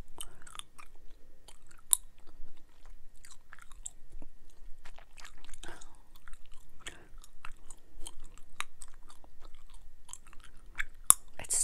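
Orbit spearmint gum is chewed close to the mic, with wet, sticky smacks and sharp intermittent snaps in an irregular rhythm, quiet between bursts and with no talking.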